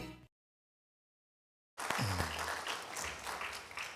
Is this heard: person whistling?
no